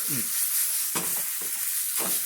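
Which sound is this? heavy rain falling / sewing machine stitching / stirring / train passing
stirring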